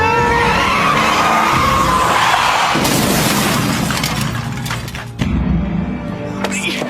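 In a dramatized scene of a car taken without permission and driven recklessly, tires screech loudly through a sharp curve, the skid sustained and harsh, then ending with a heavy impact-like boom and lingering noise.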